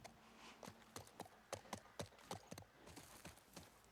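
Horse hooves clip-clopping in the video game The Last of Us Part 1: a steady, even trot of hoof clops, fairly faint, with no talking over it.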